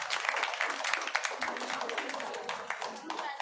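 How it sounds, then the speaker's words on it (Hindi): A small audience claps for a girl named Priya at an Indian school-style gathering, dense steady applause throughout the short moment with faint talk underneath. "तो एक बार प्रिया के लिए ताली"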